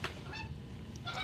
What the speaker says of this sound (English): The geese, they love to watch me.